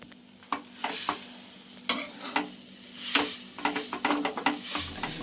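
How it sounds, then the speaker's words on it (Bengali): Khoya filling for jaggery patisapta being stirred in a pan, a soft sizzle under a run of quick scraping and tapping spoon strokes, close and steady. "আর খোয়াটা দিয়ে দিলাম দিয়ে এবার ভালো করে নাড়িয়ে পুরটা বানাবো"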